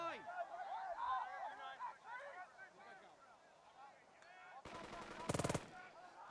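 Machine gun fire in the Burden of Command video game, a short loud rattling burst near the end following a sustained mechanical chatter, over a faint background of birdsong-like ambient sound.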